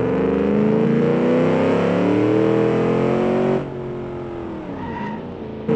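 A 400-horsepower sports car spins out in the video game BeamNG Drive with a loud, sustained tire squeal over a high engine whine, which drops away abruptly as the slide ends.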